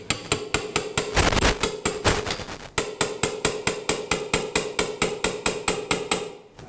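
A surgical hammer drives a shoulder implant into a plastic humerus bone model in a training workshop, sounding as a long run of sharp, evenly spaced metallic taps with a brief burst of faster, denser strikes near the start.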